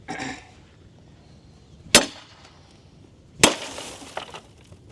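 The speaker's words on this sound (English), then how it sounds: "So I'm gonna hack away at this pane, see if we can finally break it, see if it stops a crowbar." Crowbar striking a glass pane set in a prison door, two sharp, loud cracking impacts about a second and a half apart with brief ringing glassy decay, close up.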